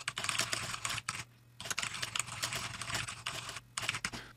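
Rapid typing on a computer keyboard, close and steady clicking with a brief pause near the middle and another toward the end, no voices.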